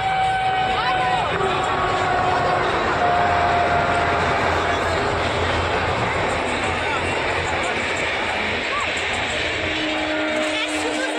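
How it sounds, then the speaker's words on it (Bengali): A train rumbles past steadily at Khirai for the whole stretch, with a busy crowd murmuring and voices mixed into the continuous noise. "দেখুন ট্রেন যাচ্ছে।"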